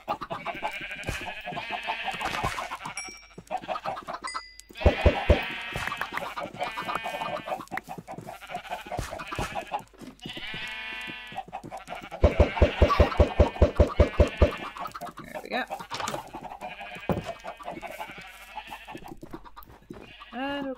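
Sheep bleating and chickens clucking on a video game farm, with repeated loud baas in bursts and sharp buzzy calls, fairly close and continuous with short gaps.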